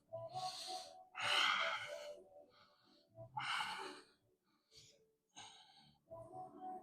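Deep, audible breaths in and out held through a yoga star plank, several long rasping inhales and exhales close to the microphone, separated by short quiet pauses.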